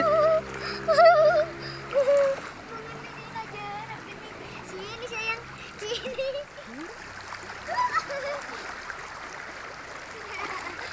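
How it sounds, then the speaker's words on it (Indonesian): An otter splashes while swimming in a river, giving scattered watery splashes and trickling over steady stream flow, with people talking nearby throughout. "Berenang udah berenang deh di sini aja."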